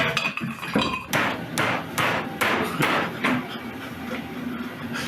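A small hammer taps repeatedly on old, hardened plastic explosive, a series of sharp, close knocks in an irregular rhythm, about ten strikes spread across the clip.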